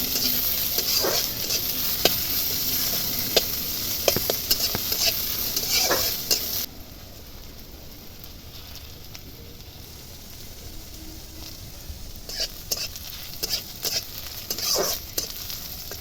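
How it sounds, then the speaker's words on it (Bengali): Onion sizzling in a pan in a village-style kitchen while being stirred, with sharp scraping strokes of a spatula over steady frying hiss, quieter sizzle in the middle before stirring resumes. "পেঁয়াজটা ভাজা ভাজা হয়ে গেছে"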